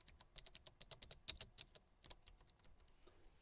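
Typing on the keyboard of an HP Omen X gaming laptop, a quiet rapid run of soft clicking keystrokes with no talk.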